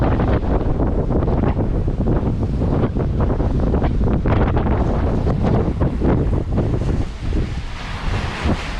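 Strong wind buffeting the microphone aboard a sailboat crossing the Atlantic, with a constant loud roar and rushing water and waves beneath it throughout.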